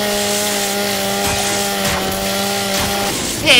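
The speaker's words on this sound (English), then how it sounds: "Chainsaw time!" Chainsaw revving in Gears 5, a loud, steady buzzing engine drone with a sharp surge near the end.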